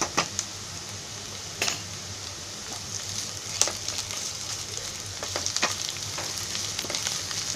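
Ginger garlic paste and onions fry in oil for a Konkani-style oyster fry, with a steady sizzling hiss throughout and a few scattered spoon clinks and pops against the pan.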